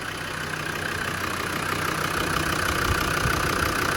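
A freshly rebuilt Land Rover Defender 90 turbo engine idling close by, a steady even rumble with a faint underlying whine and no revving, heard alone.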